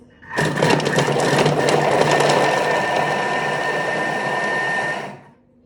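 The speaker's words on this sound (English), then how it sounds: "Let's just give that a quick chop." A Thermomix chopping leftover ingredients, a loud steady whirring burst of about five seconds that starts abruptly and winds down at the end, with no talking.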